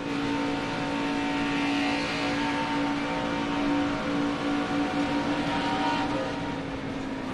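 Onboard engine drone of Toni Breidinger's Sioux Chief ARCA Menards Series race car at Daytona, a steady, loud sustained roar with a strong tonal hum holding throughout, no talk.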